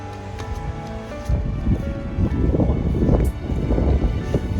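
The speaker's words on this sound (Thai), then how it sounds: "ลมพัดเย็นมาก" Cold winter wind gusts steadily on the Doi Inthanon mountain road in Chiang Mai, a continuous broadband rush that swells louder after the first second and stays close and buffeting on the microphone.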